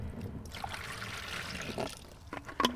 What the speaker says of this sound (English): Pour some in, use your water,